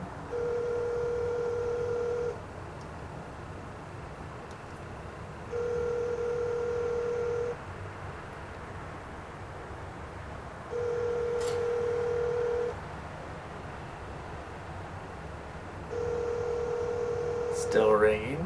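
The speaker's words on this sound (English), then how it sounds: "Still ringing." A telephone rings on a call, four long electronic ring tones separated by regular pauses, steady and moderately loud, with faint background noise between them.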